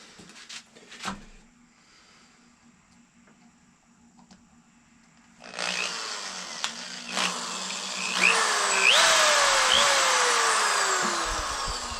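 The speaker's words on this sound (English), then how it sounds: "basically I'm using the end of a nail as a drill." A nail tip used as a makeshift drill bores into a horn for a simple powder horn, starting quiet then breaking into a loud, sustained grinding whine with pitch dips as pressure shifts.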